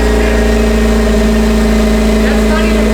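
Car engine fitted with a backwards-installed turbo runs at a steady, loud idle with a constant low hum and faint whine throughout, without clear revving.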